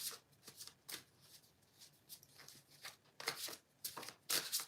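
Tarot cards are shuffled in repeated quick riffles and soft slides, close and fairly quiet, with no talking.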